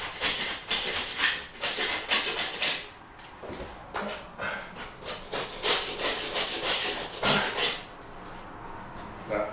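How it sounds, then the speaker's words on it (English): A blunt metal scraper works stubborn wallpaper off a wall. It makes repeated close, rasping scrapes in uneven bursts with short pauses. "even if you're using a blunt scraper"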